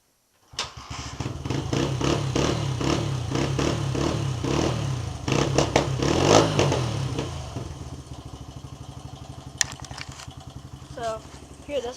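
A 2001 Honda XR80R dirt bike, cold, starts up and settles into a steady close-up idle with a buzzy, clattery putter that lasts about eight seconds, then fades slightly as a voice talks over it.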